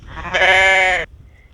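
A single loud, close sheep bleat lasting under a second, then quiet.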